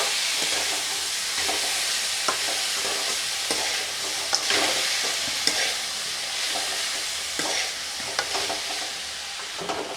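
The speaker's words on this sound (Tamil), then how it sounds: "நல்லா வதங்கட்டும்." Onions and tomatoes sautéing in a pan, a constant close sizzle broken by scraping stirs at irregular intervals, with no talking.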